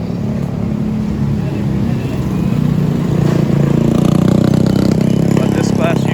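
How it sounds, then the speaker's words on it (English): Steady street traffic in Dumaguete with a basic bus passing. A continuous engine rumble grows slightly louder toward the end, mixed with other vehicle noise, and someone talks over it. "But this bus you can see coming up, that's more your basic kind of bus."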